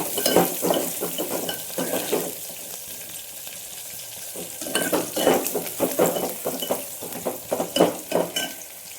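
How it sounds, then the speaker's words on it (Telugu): Onions frying in hot oil in a pan for mango dal make a steady sizzle, with bursts of stirring and scraping against the pan, close and clear with no voices. "బాగా వేడిపడినప్పుడు ఈ ఆనియన్స్ బాగా ఎర్రగా ఎంచుకోవాలా"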